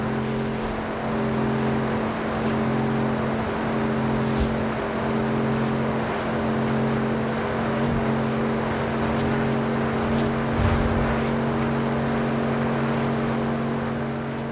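Racing cars in a video game, including a Mercedes-AMG One, droning steadily at high speed with sustained engine tones and constant road and wind noise, loud and continuous with no talk.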